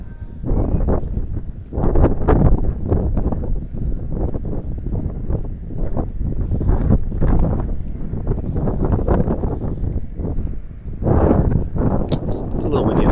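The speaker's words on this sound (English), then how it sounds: "It's a little windy in there, so we'll see how the audio ends up coming out." Loud, buffeting wind rumble batters the microphone in repeated gusts aboard the cruise ship Mariner of the Seas, with a voice speaking underneath.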